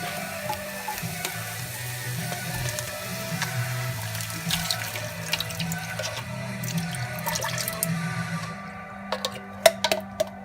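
A can of water poured into a pot of simmering onions with coconut milk and parsley, a steady wash of running liquid over a faint sizzle, ending in a few drips and clinks.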